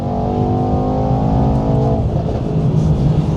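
Mercedes-Benz E63S Edition 1 pulling hard under full throttle, loud engine drone rising through a gear then a brief shift and renewed roar, close and dominant, heard from inside the car.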